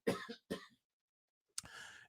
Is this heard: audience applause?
no